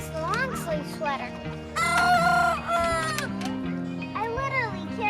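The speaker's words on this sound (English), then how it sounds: "this is kind of the chicken yard and the duck yard" Chickens and a rooster in a backyard chicken yard beside a duck yard, with repeated loud crowing and clucking close by, calls overlapping over several seconds.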